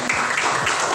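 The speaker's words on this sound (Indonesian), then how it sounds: "Puas ya, oke, tepuk tangan." A classroom group claps briefly after a discussion, producing a short burst of dense, even applause.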